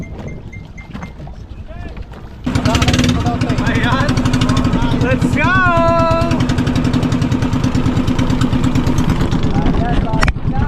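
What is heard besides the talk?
tour boat engine running on the water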